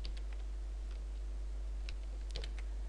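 Keyboard typing during a coding session, a few light scattered key clicks over a steady low hum, faint and without speech.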